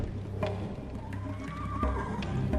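Horses whinny and neigh over a dense, steady bed of game ambience in the point-and-click game Secret Files 3: The Archimedes Code, with a couple of sharp calls standing out near the middle and end.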